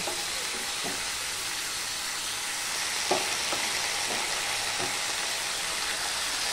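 Boiled vegetables going into a pan of frying fish head curry, a steady soft sizzle and hiss with a few stirring knocks and clatters, no talking.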